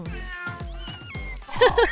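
A cat meows repeatedly in short, close calls, several in quick succession, ending in a louder, more strained cry.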